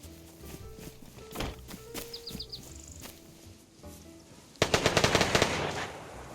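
Gunfire in the DayZ video game: a burst of several sharp shots near the start, then a louder rapid volley of close, crackling shots late in the clip, with footsteps and faint bird calls between.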